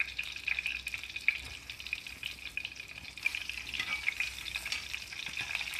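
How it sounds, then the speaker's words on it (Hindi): Eggplant pieces fry in hot oil in a pan for Hyderabadi bhagare baingan brinjal curry, giving a steady, continuous close sizzle and hiss with no voices. "इसलिए पहले फ्राई करना इम्पोर्टेंट है 6 मिनट्स के लिए।"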